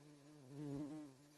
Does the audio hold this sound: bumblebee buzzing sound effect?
yes